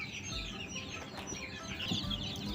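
Newly hatched chicks and quail chicks inside an incubator peep and chirp softly in rapid, overlapping high calls, faint and close, with no talk.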